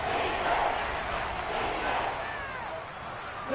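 Stadium crowd noise swells steadily through a Madden NFL football game ahead of a big third down, a dense continuous roar with no talk over it.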